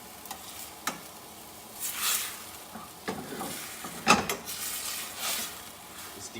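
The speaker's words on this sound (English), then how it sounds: "it's deglazing the pan" Balsamic vinegar sizzling and reducing in a hot steak pan during deglazing, soft steady frying hiss broken by several sharper bursts and scrapes of stirring, close and moderately quiet with no voices.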